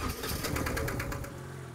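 A motorcycle engine, ridden by a one-legged rider on a closed practice ground, runs steadily and close with a rapid, even mechanical chatter and slight rise and fall, loud and continuous with no talk over it.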